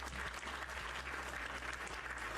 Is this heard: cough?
no